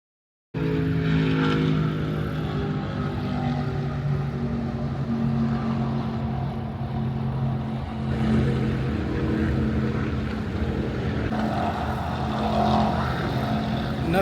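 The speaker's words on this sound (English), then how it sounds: "it was 2 Apache helicopters flying over this morning" Steady roaring engine drone of two Apache helicopters flying overhead in the morning, loud and continuous for the whole stretch, swelling slightly at times.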